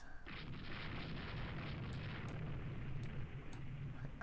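Naval gunfire and shell explosions in the warship strategy game Rule the Waves II, a dense continuous rumbling roar of distant booms with a few sharper cracks scattered through, fairly faint and with no talking.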